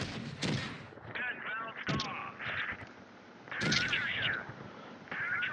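World of Tanks Blitz tank cannons firing in the game, with several sharp booming shots spread across the stretch and someone talking between and over them.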